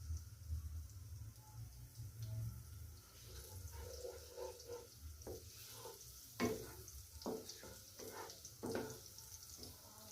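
Chicken hits hot oil with garlic for Chinese fried rice, sizzling softly while a spatula stirs and scrapes the pan in irregular knocks, fairly quiet and without talk.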